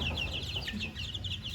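Growing chicks indoors give a rapid run of high, thin peeps and soft clucks. The sounds are fairly close but quiet, with no voices.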